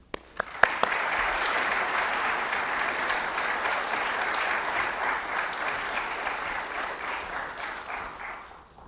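Audience applause welcoming Professor Stephen Kotkin to the stage at a lecture, a steady wash of clapping from a large crowd that starts abruptly, holds evenly for several seconds and tapers slightly toward the end, with no talking.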